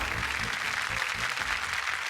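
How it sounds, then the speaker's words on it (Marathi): Loud, dense audience applause in a studio for a Marathi television show, a continuous roar of many hands clapping at constant level throughout. "जोरदार टाळ्या."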